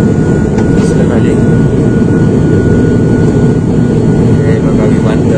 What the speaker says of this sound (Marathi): टेक ऑफ घेतलेलं आहे. हो हो, आता आपण हवेत आहे सध्या.